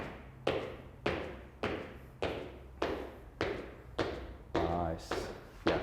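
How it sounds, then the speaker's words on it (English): Feet land hard on a floor during plyometric jumps, about nine sharp thuds at a steady rhythm roughly every half second, each a close impact with a short ringing decay. "we're still trying to attack the floor and get that nice stiff landing."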